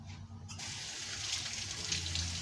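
Hands are washed under a running kitchen tap while making hamburger steak; after a short quiet moment, water splashes in a steady, fairly loud gush that lasts to the end.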